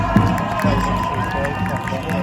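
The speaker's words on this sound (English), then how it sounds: "Everybody, round of applause for Simon." A crowd at a pro-Palestinian protest rally in Leeds claps and cheers loudly and close, a busy wash of outdoor cheering and applause with voices mixed through it.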